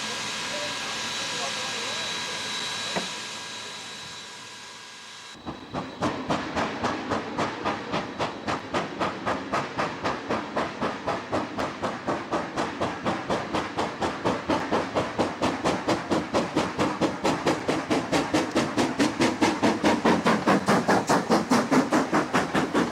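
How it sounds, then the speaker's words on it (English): Steam locomotive JA 1271 of Steam Incorporated hauling an excursion train in New Zealand, a quiet hiss and rumble giving way to loud, rapid, steady exhaust beats, with a voice talking over part of it. "Locomotive is Steam Incorporated's JA number 1271, enjoying rather better weather than when she was on hire to mainline steam truss for our main trunk excursion"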